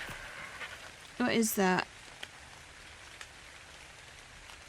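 Steady rain in ARK: Survival Ascended makes a continuous soft hiss throughout, and a voice briefly asks a question partway through.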